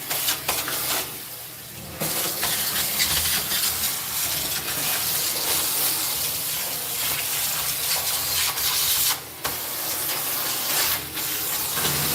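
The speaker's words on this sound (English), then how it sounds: "first I'm vacuuming up the obvious pieces of thing" A household vacuum cleaner runs steadily up close, sucking up loose debris from the floor, with a continuous broadband whoosh and a few brief dips where the nozzle lifts or pauses.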